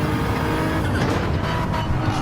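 A race car engine at the Catalunya circuit howls at high revs inside the cockpit, loud and continuous, with pitch shifts as the driver downshifts and blips the throttle.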